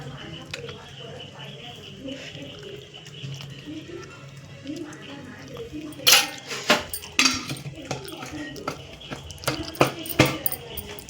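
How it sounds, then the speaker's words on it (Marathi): A lid bangs on a very hot kadai heating oil for a cluster-bean and potato dish, with several sharp metallic clanks in quick succession after a quieter stretch of kitchen noise, under a voice talking. "ऐक झाकण पण जोरात लागला."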